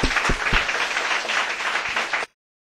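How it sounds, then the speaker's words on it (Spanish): A church congregation applauds together, dense steady clapping with a few sharp louder claps standing out, filling the space for about two seconds before cutting off abruptly. "vamos a darle un aplauso a nuestro Señor Jesús"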